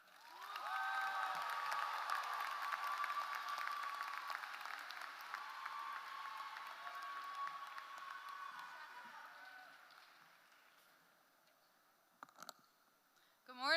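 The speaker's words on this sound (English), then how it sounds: "let's get a round of applause for our next speaker, your salutatorian, Audrey Craighead" A high school commencement audience applauds the salutatorian, a broad wash of crowd clapping with some cheering, moderately distant and gradually fading, followed by a few clicks and shuffles as it dies away.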